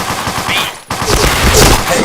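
Rapid bursts of automatic gunfire in a shooting video game, dense and loud, with a brief break near the middle before the firing resumes, and faint voices beneath.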